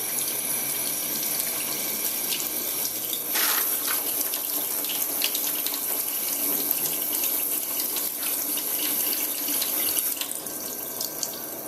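Tap water flushes steadily through a Clearly Filtered pitcher filter, a continuous loud hiss of running water that holds even for the whole stretch.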